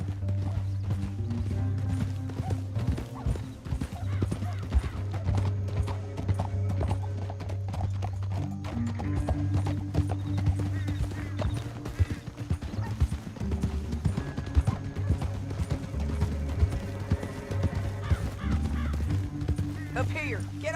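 Horse hooves clop along steadily for a long stretch in Red Dead Redemption 2, a rhythmic trotting beat through a canyon, with occasional bird calls and faint voices mixed in.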